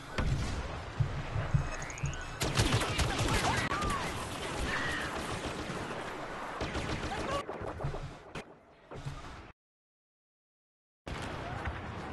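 Blaster gunfire in the Star Wars Battlefront beta crackles in dense bursts during a chaotic multiplayer Drop Zone match, then cuts to silence before the game noise returns.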